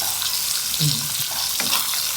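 Boiled chicken stir-fried with salt in a pan over lowered heat gives a loud, steady sizzle and frying crackle, with occasional stirring scrapes and no talk.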